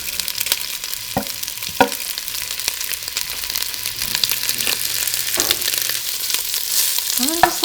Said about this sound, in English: And listen for the sizzle.